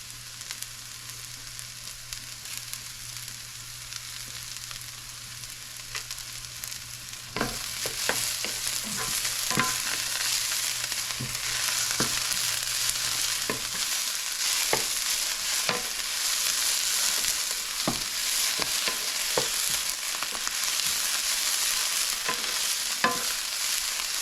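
Salmon sears in a frying pan with mushrooms and cilantro, giving a continuous close sizzle and frying hiss, with irregular clinks and scrapes as the pan is stirred.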